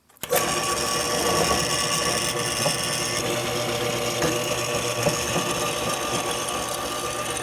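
A WEN 12-inch drill press bores a hole through metal, starting abruptly and then running as a loud, steady grinding, chattering whine with a ratcheting mechanical texture, close by, with no talking.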